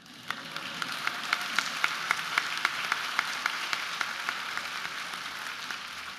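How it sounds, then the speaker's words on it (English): A large audience at a Brunswick Community College commencement ceremony breaks into sustained applause, a dense, even wash of many hands clapping with a few sharper claps standing out near the microphone. "You can clap."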